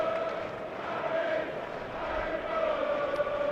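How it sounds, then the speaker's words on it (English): Cricket crowd in the Hollies Stand at Edgbaston during an England v India Test, cheering as a steady distant roar with a faint sung or chanted tone, continuous for several seconds. "I do hope you can just hear the Holly stands cheering."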